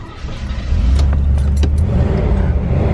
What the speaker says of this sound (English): It's like sputtering.